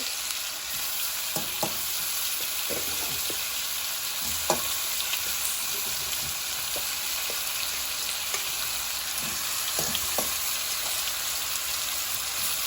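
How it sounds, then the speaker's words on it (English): Parboiled chicken frying in oil, a steady crackling sizzle with scattered louder pops, continuous throughout with no talking. "Just one chicken here to fry"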